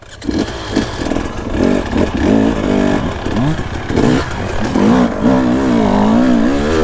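A trial motorcycle rides close by, its engine revving up and down in rapid bursts and blips as it pulls alongside to overtake, loud and near throughout.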